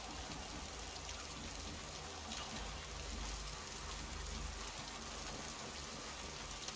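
Steady rain falls in the video game Mass Effect 2, a dense, even hiss of drops spread across the whole scene, soft and continuous with no voices over it.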